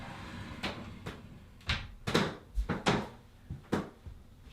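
A glass shower door on a bathtub door kit being slid into place during installation: a series of sharp knocks, thuds and rolling scrapes, irregular and close, with no talking.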